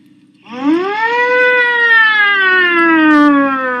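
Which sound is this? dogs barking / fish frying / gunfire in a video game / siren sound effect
siren sound effect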